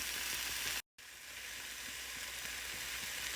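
Napa cabbage stir-frying in a hot pan, giving a steady loud sizzle with faint stirring scrapes and a brief dropout near the start, with no talk.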